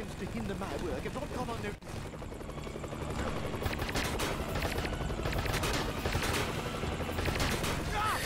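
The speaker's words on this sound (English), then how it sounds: "I gotta shoot when they stop shooting." Sustained, dense gunfire from a shooting game, Family Guy: Back to the Multiverse, rattling continuously at close range with a brief pause near the two-second mark.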